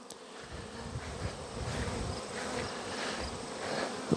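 Bees buzz steadily around a pallet hive outdoors, a dense, close swarm hum that swells slightly over a few seconds with no voices.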